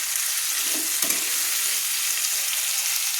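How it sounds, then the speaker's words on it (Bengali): Chopped flat beans sizzle in hot oil with other vegetables and potatoes, a steady bright crackle with a couple of soft stirring scrapes near the start, close and continuous with no talking. "শিমগুলো দিয়ে একটু ভালো করে আমি নেড়ে নিচ্ছি।"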